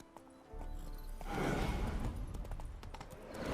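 Hooves of a horse in The Witcher 3 video game clop along, starting with a soft snort then building into a steady, fairly loud gallop of rhythmic thuds over a rustling ground.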